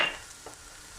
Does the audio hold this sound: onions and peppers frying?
yes